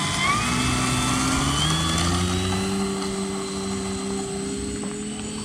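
FMS Pitts RC model biplane taking off, its electric motor and propeller whining loudly and steadily, pitch climbing as it speeds up and pulls away, with a faint whistle above the drone.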